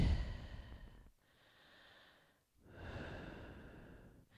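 Slow breaths drawn while resting in a rounded-back position on a Pilates reformer, two long soft airy exhalations separated by a short pause, close and quiet, with no talking.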